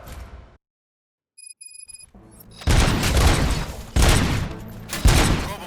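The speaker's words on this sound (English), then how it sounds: "Gunshots?" Gunfire in the video game RoboCop: Rogue City: after a short silence and a few faint electronic blips, loud bursts of shooting erupt in three heavy, booming volleys.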